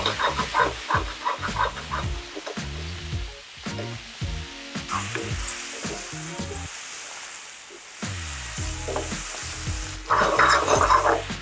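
Food sizzles and fries in olive oil in a pan for tacos gobernador, a steady close crackling hiss broken by repeated scraping and stirring strokes, swelling louder near the end.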